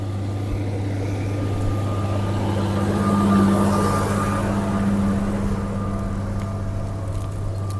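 A tractor pulls a two-metre plough with 50 cm bodies through dry soil, a steady, loud engine drone with a constant low hum holding through the whole stretch, no voices.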